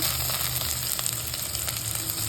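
Green chili, onion, ginger-garlic paste and curry leaves fry in a pan, giving a loud, dense, steady sizzle with faint crackles and no voices.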